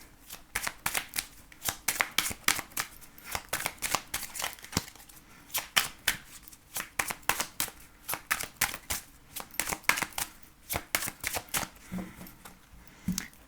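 Tarot cards are shuffled by hand in rapid, crisp riffling bursts, close and fairly loud, repeating steadily with brief pauses between passes.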